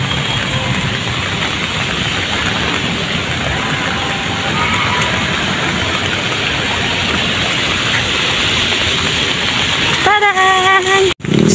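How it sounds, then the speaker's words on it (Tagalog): Heavy rain pours down steadily in a dense, continuous hiss across the whole stretch, loud and close, with a brief burst of other noise near the end. "Sobrang lakas na talaga ng ulan"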